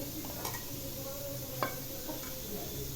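Mutton pieces fry for a gravy with a soft, steady sizzle, and a few light stirring scrapes and utensil taps stand out over the continuous hiss.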